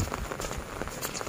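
Rain that has fallen for three days patters on surfaces outside a rural home, a soft, steady spatter with faint scattered drops and no voices.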